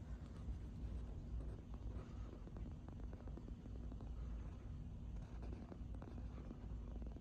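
Several Emerson 77646s electric fans spinning down, a steady low droning whir with wind-like rumble, continuous and fairly even in level, no voices over it.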